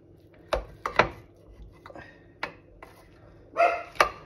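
Knife slicing through a Raisin Bran meatloaf, a handful of sharp separate cuts spaced irregularly, close and fairly quiet, with a pair of louder strokes near the end.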